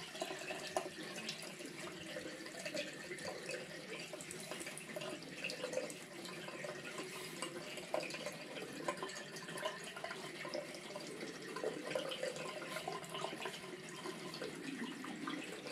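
Water runs steadily from a tap into a sink, a continuous hissing splash at moderate level that holds throughout with no voices.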